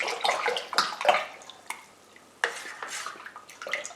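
Yeast is stirred into liquid in a fermenting vessel for an alcohol spirit kit, giving quick sloshing swirls and light scraping against the container, close and fairly soft in short bursts.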